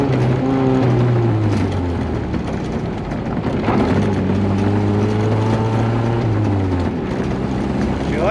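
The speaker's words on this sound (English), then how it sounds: "I gotta keep revving it up and keep her running" An old 1980s Mazda truck engine, left sitting for 30 years, revved to keep it running: a loud, continuous mechanical drone with tones that rise and fall as the throttle is worked.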